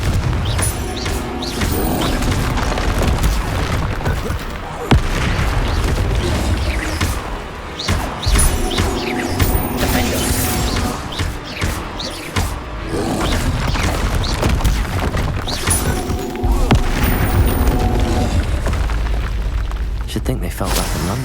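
Booming spell explosions from the Confringo curse in Hogwarts Legacy, a dense run of crashes and heavy impacts with a game score playing under them and a voice calling out over the top.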